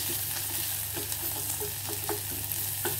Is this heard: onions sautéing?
yes